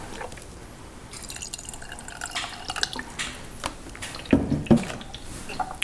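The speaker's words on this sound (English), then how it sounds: "So to this, I'm gonna add some filtered water." Filtered water trickles and drips into a thick sauce during meal prep, with irregular small splashes and liquid plops, some clustered louder drips near the end, close and fairly quiet, with no speech.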